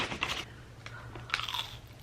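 A crunchy churro with chocolate is bitten and chewed up close, with crisp crackling crunches over about two seconds and no talking.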